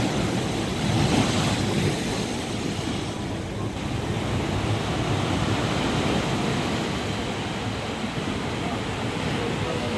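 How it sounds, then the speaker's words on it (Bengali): Rough surf crashes continuously on Old Digha beach at night during a new-moon spring tide with rain, a dense, loud roar mixed with gusting wind buffeting the microphone. "অমাবস্যার কোটালে দীঘার সৈকতে চলছে জলোচ্ছ্বাসের মুহূর্ত। বেশ সমুদ্র প্রচুর উত্তাল।"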